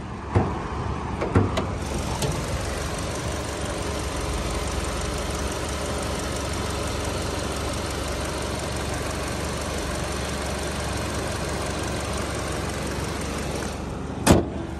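A 2011 Hyundai Elantra automatic four-cylinder engine idles steadily with the hood open, a continuous even hum and rumble heard close up, with a couple of sharp clicks near the start and end.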